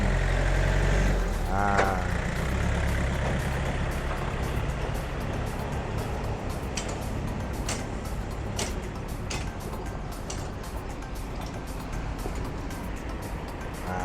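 A used Yanmar EF 514T 51-horsepower tractor is driven, its diesel engine a loud, steady rumble throughout, with faint rattles and clicks from the rear equipment knocking on top.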